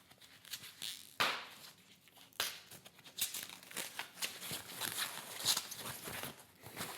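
Foam packing is pulled off motorcycle handlebar parts for a Street Glide install, with close, quiet bursts of crinkling and tearing in irregular pulls and no talk.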